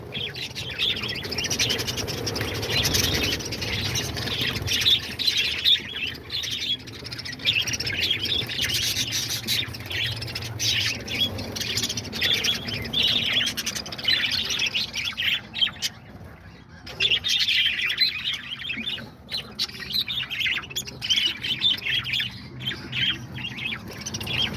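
Lovebirds, diamond doves, budgies and cockatiels in an aviary with babies and eggs fill the air with constant overlapping chirps, squawks and tweets, busy and fairly close, with no talk.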